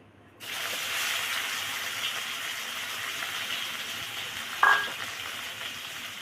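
Taro leaf paste hits hot mustard oil in a kadai and bursts into a loud, steady sizzle after a brief quiet start, with one short clink of a utensil partway through.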